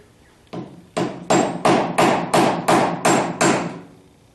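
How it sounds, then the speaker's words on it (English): A hammer taps a metal power steering hose fitting on a 1976 Corvette eight times in a slow, even rhythm, each strike sharp and close with a short ringing decay, and no talking. "I'll take a hammer and lightly tap on this to see if it seats them any further"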